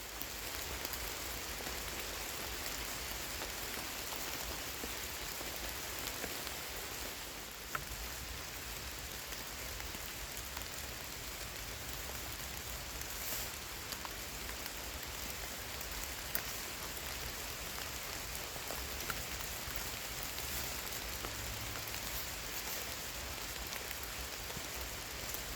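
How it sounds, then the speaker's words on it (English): Heavy rain pours steadily outdoors onto a campsite guyline setup, a dense continuous hiss of drops on surfaces with no pauses, fairly soft overall and without talk. "While we've been filming, the rain has come down a lot heavier."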